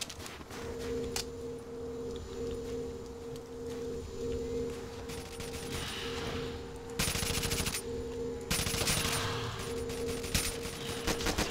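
Gunfire in a Call of Duty custom zombies map set at a ski resort, rapid automatic bursts running over a continuous game soundtrack hum, growing louder in short sharp volleys toward the end.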